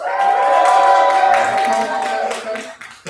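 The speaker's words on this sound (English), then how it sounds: "make some noise if you've been here before" A live comedy show audience claps and cheers loudly, a dense burst of applause and whoops that gradually thins and fades over a few seconds.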